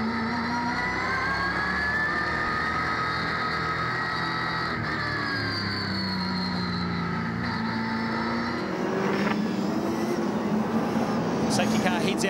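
V8 SuperTourer race cars and the safety car at Hampton Downs, New Zealand, circulate in a sustained engine drone whose pitch sweeps up and down as the cars pass. The sound grows louder and harsher near the end.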